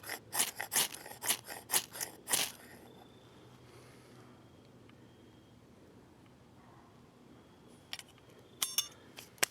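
A ferrite scraper strikes the Siege Stove, a disaster and survival prep cook stove, in a fast run of sharp metallic scrapes over the first few seconds, then a quiet pause and a few more rasping strikes near the end.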